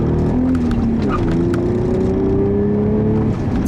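A 1994 Acura Legend with a C-Series V6 accelerates hard, its engine note climbing steadily in pitch from inside the car, loud and continuous.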